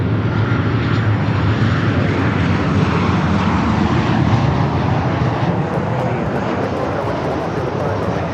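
A United airliner arriving at Los Angeles International Airport, a steady, loud broadband engine roar holding throughout with no break, and no talk over it.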